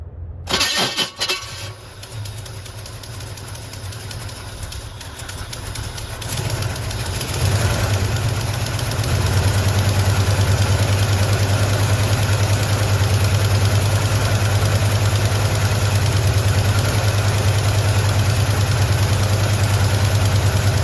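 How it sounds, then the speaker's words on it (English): A 1973 Pontiac Firebird V8, fed by a new fuel pump after more than 20 years parked, cranks and catches, then settles into a steady, loud low idle that holds alone to the end. "we're gonna see once and for all if we can make this engine idle"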